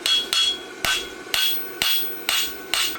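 Sharp hammer blows on a horseshoe during roadster shoe forging practice for a blacksmith championship, seven distinct ringing strikes at a steady uneven rhythm, close and loud with no talk.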